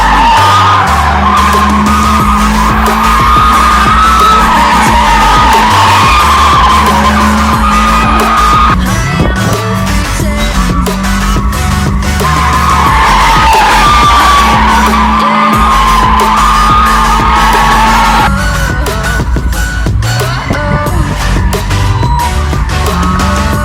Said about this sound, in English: So one wheel will end up spinning, and that's the wheel with the least amount of grip.